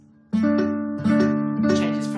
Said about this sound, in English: Changes from this buzz to this clear sound.